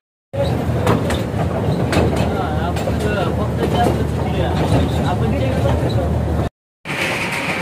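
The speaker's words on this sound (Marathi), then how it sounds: "तर ही मिनी ट्रेन आहे" Mini train ride at a water park, heard from on board as a loud, continuous rumble and clatter of the small train moving, with people talking over it and a brief cut near the end.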